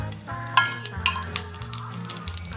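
Oil poured around the edge of a pizza base on a hot tawa sizzles steadily and close, with two brief scraping clinks of a utensil partway through.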